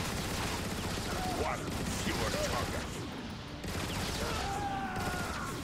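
Rapid turret gunfire in Transformers: Fall of Cybertron rattles continuously amid battle noise and explosions, loud and dense, with players shouting and talking over it.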